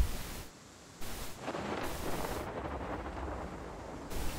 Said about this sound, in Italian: Piove che Dio la manda.